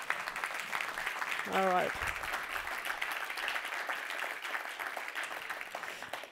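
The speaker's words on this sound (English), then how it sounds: "Should we give them a first round of applause?" An audience at a science awards ceremony gives young scientists a steady round of applause, a dense patter of many hands lasting several seconds, with a short spoken remark near the start.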